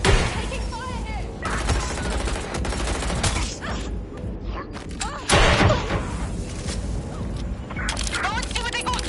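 Dense, chaotic video game gunfire rattles in overlapping volleys alongside booms and thuds, loud and continuous, with shouting voices mixed into the battle.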